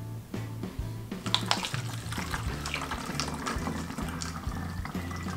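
Muddy, murky water pours steadily into a container during a Sawyer portable water filter demonstration, a continuous close splashing flow with bubbling gurgles and no speech.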